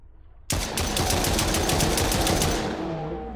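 Rapid automatic gunfire in the video game Pangea Survival bursts in abruptly after a quiet moment, a loud, fast stream of shots lasting about two seconds before trailing off into echo.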